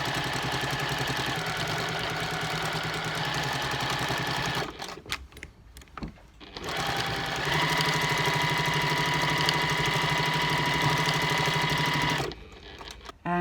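A machine embroidery unit stitches a design adding small fabric shapes, running in a loud fast mechanical whir for several seconds, pausing briefly with clicks, then resuming before stopping again.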